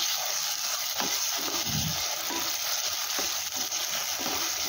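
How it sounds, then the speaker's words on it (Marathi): Chopped tomatoes fry in a pan with ginger-garlic paste while sambar is being made, giving a steady, close sizzling hiss with faint stirring scrapes and no voices. "त्याचाही कच्चेपणा जाईपर्यंत आपण ते फ्राय करून घेऊया"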